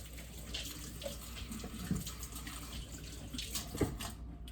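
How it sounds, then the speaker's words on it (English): Hands being washed under a running kitchen tap, a steady broadband rush of water with a few faint splashes and knocks, close and continuous, no voices. "I should probably wash my hands after doing that."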